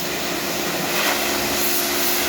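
Electric outdoor heaters running in a car-washing area: a loud, steady, unbroken whooshing hiss with a faint hum underneath, close and constant throughout.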